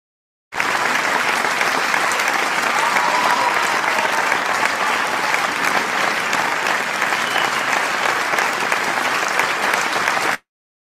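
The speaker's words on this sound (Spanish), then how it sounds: "vamos a recibir con fuerte aplauso" An audience at a nutrition talk welcomes a doctor with steady, loud, close applause that lasts about ten seconds, then stops abruptly.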